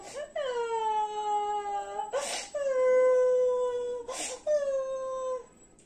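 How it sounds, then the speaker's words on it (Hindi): Three drawn-out wailing cries, each starting with a sharp breathy gasp and sliding down into a long, tonal sob, loud and close. "पीछे से उनको किसी के रोने की आवाज सुनाई दी।"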